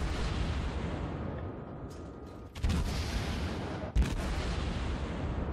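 The Atago cruiser's guns fire in World of Warships, with two heavy booming blasts a little over a second apart rising above a constant loud rumble of battle noise.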